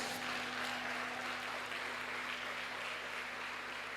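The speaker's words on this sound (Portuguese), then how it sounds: "vamos aplaudir e glorificar a Jesus" A church congregation applauds steadily, a soft, even wash of clapping that stays at a constant moderate level throughout with no voices over it.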